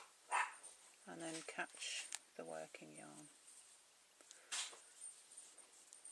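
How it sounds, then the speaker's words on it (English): A dog barks excitedly in the background, stirred up by a child with a Nerf gun. There are two short clusters of faint barks while a nearby person talks over them in a quiet indoor room. "The noise you can hear in the background is the 10-year-old winding the dog up with a Nerf gun."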